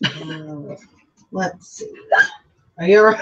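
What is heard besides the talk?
hiccup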